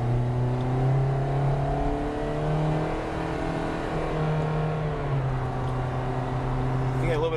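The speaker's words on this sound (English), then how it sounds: "Acceleration up a hill." A 2014 Toyota Corolla engine with a CVT drones steadily under load as the car accelerates up a hill, its pitch rising gradually and dropping slightly, fairly close and continuous.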